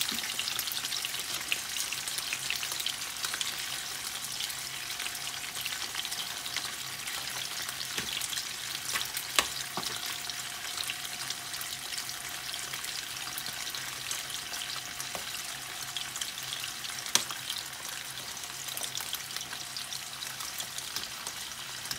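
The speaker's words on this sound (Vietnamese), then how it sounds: "Chiên xúc xích" Sausages frying in a pan with potatoes give a steady close sizzle and crackle, with a few sharper pops and light stirring clatter throughout and no talking.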